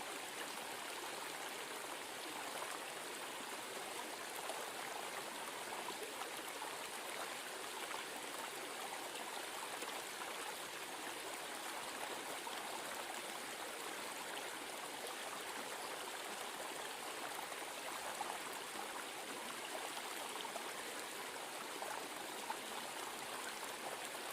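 Water trickles and splashes continuously over a small garden pond waterfall in a rock garden, a steady, even rushing babble with no pauses or voices.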